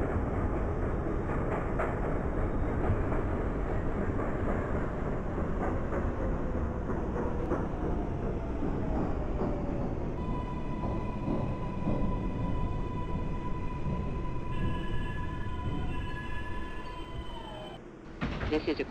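A New York subway F local train in the openBVE simulator rumbles steadily along the tracks with clattering and hum, then slows as a high tone rises and the noise drops near the end.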